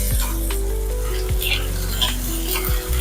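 Ginger garlic paste sautéing with onions in a pan for chicken 65: a loud, close sizzle with repeated spatula scrapes and a brief utensil clink, with nobody talking.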